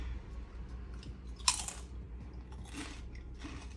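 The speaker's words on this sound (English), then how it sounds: "Just have to show you the crunch." A crisp crunch as teeth bite through the seared edge of bone-in, skin-on chicken, one sharp crack followed by a softer second burst of crunching, close and fairly quiet with no talking.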